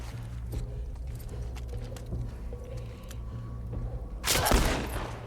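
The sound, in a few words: gunfire shooting a dog in video game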